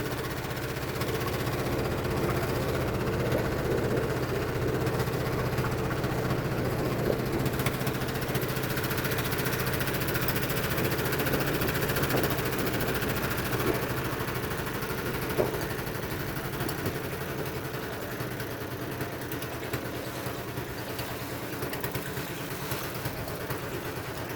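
A motorized bangka boat engine drones steadily throughout off Subic in the Philippines, a constant mid-pitched rumble with no breaks or voices.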